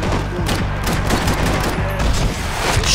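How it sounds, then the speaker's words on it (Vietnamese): Rapid gunfire erupts in the video game Max Payne 3, dense bursts of close, loud shots overlapping in a fusillade with booming impacts throughout. "Đấy, lấy súng này bắn cho nó sướng."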